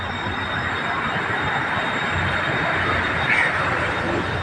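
A BTS Skytrain EMU on the Silom line rolls into an elevated station, a steady loud rumble of wheels and motors with a faint high whine and a brief squeal near the end, no voices.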